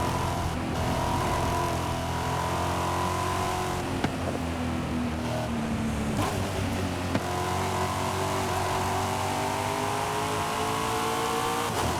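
Forza Horizon 5 race car on PS5, engine droning loud and continuous at high revs after the shift into fourth gear, pitch rising steadily with brief dips at gear changes, no voices.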